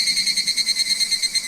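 Insect, apparently a cicada, calling in Japan near Magome-juku, a rapid pulsing buzzy trill repeating steadily at close range with no other sounds.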